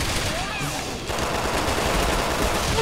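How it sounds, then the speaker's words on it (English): Rapid gunfire in Resident Evil 6 rattles along as a dense, continuous burst of shots filling the whole stretch, with a voice speaking faintly underneath. "shooting for no reason it seems"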